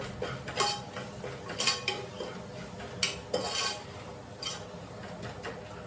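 A spoon scrapes and clinks against a pan while a beetroot rice mixture with coriander powder is stirred and lightly fried at home, giving quiet, irregular metallic taps and scrapes at close range.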